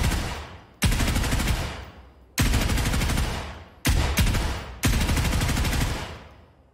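Suppressed gunfire from weapons in the tactical shooter game Ground Branch, including an FAL rifle: five sharp, loud shots in an irregular rhythm, each with a long fading tail, close and alone.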